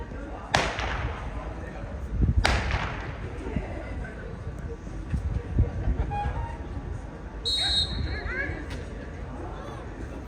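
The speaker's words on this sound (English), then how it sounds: "This is the flee with gunshots." Gunshots crack out during a Mondioring flee exercise at the World Championship: two sharp, loud reports a couple of seconds apart over a steady outdoor murmur, with a commentator talking throughout.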